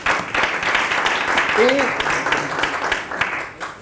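Short round of audience applause at a politics talk event in Montevideo, an even wash of clapping that fades out near the end, with a brief voice heard over it.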